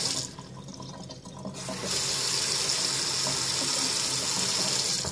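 Water runs steadily from a newly bought faucet into a sink, a broad close hiss that weakens briefly and then surges to a fuller, louder stream.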